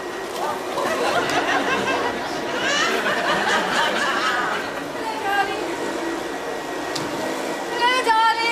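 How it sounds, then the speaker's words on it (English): A vacuum cleaner hoovering indoors hums steadily at moderate loudness beneath ongoing chatter and talk, with brief clatters near the end. "didn't hear you with the hoovering"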